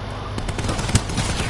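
Rapid gunfire in a zombie-shooting video game, with a quick string of sharp shots and one louder crack, set over a steady, busy game background with no talk.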